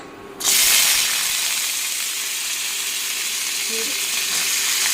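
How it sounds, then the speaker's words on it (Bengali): Drumstick stalks drop into hot oil with five-spice in a pan and burst into a loud, steady frying sizzle that keeps on without a break and with no talk. "পাঁচফোড়নটা লাল করে বেঁধে নিলাম এখন দিয়ে দিচ্ছি সজনার ডাটা"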